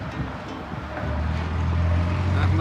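Wind gusts outdoors in barren, treeless country at Rock Springs, Wyoming, a steady low rumbling buffet against the microphone that strengthens midway and continues to the end.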